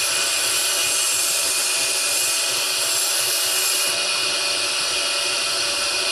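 A belt grinder polishes a knife edge on a sharpening setup, giving a steady, loud, bright grinding hiss that runs continuously throughout with no talk.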